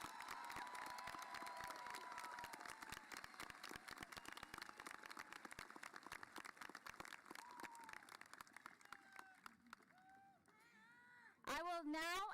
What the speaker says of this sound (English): Please give the class of 2023 top 10 students a round of applause.